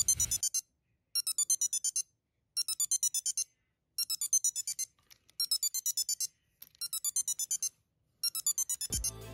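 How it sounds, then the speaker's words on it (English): A KeySmart iPro key finder rings through Apple's Find My with a bright electronic chime in repeated bursts of rapid high tones, each lasting about a second with short silent gaps between, loud and close. "if you want to find your keys, you can go into the Find My app and ring your keys"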